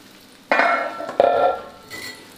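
Eggplant frying in shallow oil is turned in the pan, making two short bursts of sizzling and scraping that close together and then fade to a faint hiss.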